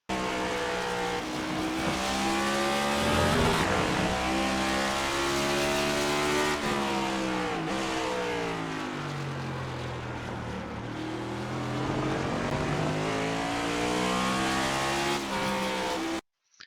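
NASCAR Next Gen race car in iRacing at Road America, its engine droning loud and steady throughout as pitch rises and falls through throttle lifts and reapplication around a downhill corner, with faint tire scrub.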